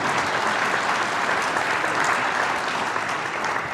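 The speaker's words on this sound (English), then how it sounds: "Can we just give these guys a round of applause?" An audience gives a full round of applause for guests at an emergency-preparedness talk, a thick, steady roar of many hands clapping without a pause.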